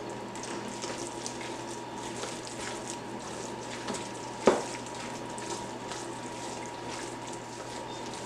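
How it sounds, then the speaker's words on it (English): A cornbread chicken dressing mixture is stirred in a bowl, giving a steady wet, squelching churn with one sharp clink partway through and no talking. "And we're going to give this a mix"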